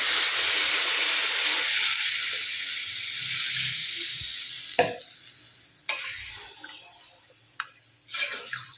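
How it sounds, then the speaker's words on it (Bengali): Water hits a pan of fried potatoes with a loud rushing hiss that slowly fades to a softer steam, followed by a few sharp clinks and scrapes of stirring. "আলুটাও ভাজা হয়ে গেছে এবার জল দিয়ে দেবো"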